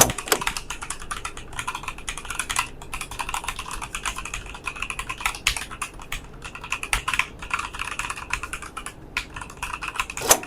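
Steady, close-up typing on a Fantech Atom Pro MK918 full-size mechanical keyboard, with a rapid, uneven patter of clicky keystrokes and no voices.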